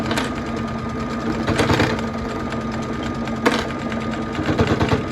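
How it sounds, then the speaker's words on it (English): A sewing machine stitching fabric runs loud and close in one continuous whirring hum with its rapid needle rhythm, broken by a brief jolt midway. "Lower the needle again and start back sewing."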